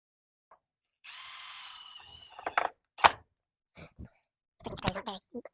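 Self-tapping screws driven with a power drill into a Can-Am X3 panel, one high whining burst of about a second and a half, then a few short clicks and knocks, and brief talk near the end.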